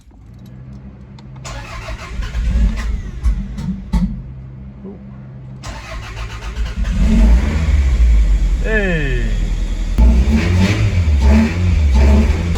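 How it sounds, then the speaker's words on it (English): A Toyota MR2 after a head gasket repair cranks, catches and starts, then the engine is revved several times and settles into a loud running idle close by, with a brief spoken exclamation. "Now we're gonna try see if she starts."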